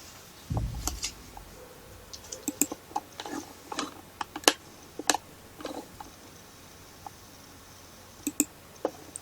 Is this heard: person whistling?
no